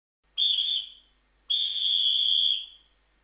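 Two shrill whistle blasts, a short one followed by a longer held one, clear and close against silence with no talk.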